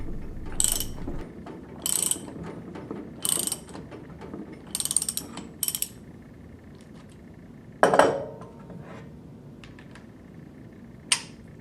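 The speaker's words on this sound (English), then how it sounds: "Install the lock nut and tighten to the appropriate torque setting using a deep bore socket and torque wrench." Torque wrench with a deep bore socket tightening a lock nut on a Viking pump shaft in a maintenance workshop: several short bursts of ratcheting clicks spaced about a second apart, then a louder metallic clank and a final click, close and without talk.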